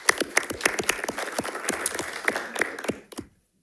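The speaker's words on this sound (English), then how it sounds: "So if we could give him a round of applause." An audience at a school board meeting claps in a brief round of applause, scattered sharp claps close by that thin out and stop abruptly into silence.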